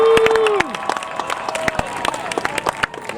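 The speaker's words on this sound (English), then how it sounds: "A lot of cheer on that one." A graduation ceremony crowd cheers and applauds, with dense clapping and scattered whoops continuing after a brief tone fades.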